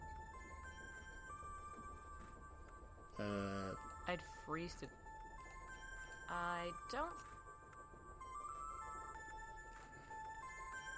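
A telephone rings inside a room in a horror adventure video game, coming as two separate bursts of ringing over a quiet background hum, with brief talk between them.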